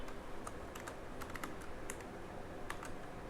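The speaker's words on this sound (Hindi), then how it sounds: "तो मैं जैसे ही एंटर दबाऊंगा" Quiet computer keyboard typing, a series of light, crisp key clicks in uneven bursts with one key press landing near the end, close but faint over low room noise.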